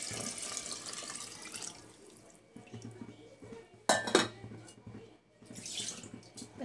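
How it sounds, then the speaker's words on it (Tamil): Water runs from a tap while a pot is rinsed, with soft clinks and a sharp metallic scrape partway through, fairly quiet and close. "இந்த பாத்திரத்தை கழுவி கொஞ்சம் தண்ணி"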